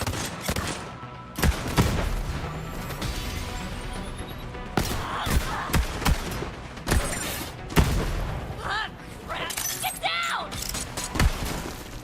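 Rapid bursts of Jakobs gunfire in the shooter Borderlands 3, loud cracking shots repeating irregularly amid explosions, impacts and shattering game effects, with someone talking excitedly over the action.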